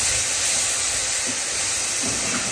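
Bananas frying in butter give a dense, continuous sizzling hiss that stays loud and even throughout, close up and with no voices.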